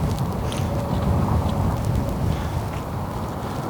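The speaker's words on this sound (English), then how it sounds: "Definitely super windy." Strong wind buffets an FPV drone flying over a baseball stadium, a constant low rumbling roar of wind noise with steady gusting texture and no talk.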